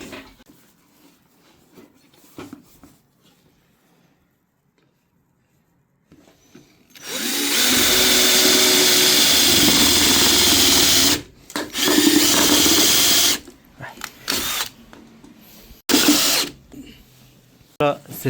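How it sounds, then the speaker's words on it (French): A power screwdriver drives screws into the inner cover of an electric roller shutter, giving a loud sustained whir of about four seconds followed by several shorter bursts, with faint talk in the quieter opening. "on va visser le capot intérieur qui va contre le mur"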